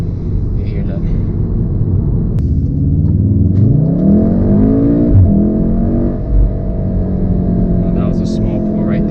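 A modified MK7 Volkswagen Golf R with an aftermarket exhaust accelerates hard, its engine note climbing steadily in pitch through a gear, loud and close from inside the cabin.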